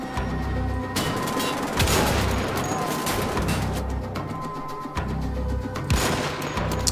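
Gunfire rattles through a firefight in Wolfenstein: The Old Blood, with repeated sharp shots and bursts packed closely together at a steady, loud level throughout, with a few heavier booming hits among them.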